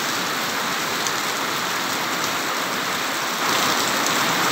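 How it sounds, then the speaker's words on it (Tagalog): Heavy downpour roars without a break as wind blows through the storm, close, loud and constant, and it swells slightly near the end. No one speaks. "sa lakas ng ulan"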